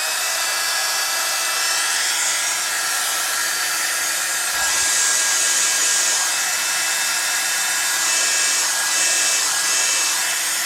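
A heat embossing tool blows hot air over paper for a winter flower craft, making a loud, continuous whir that holds steady for about ten seconds with small shifts in pitch and no talking over it.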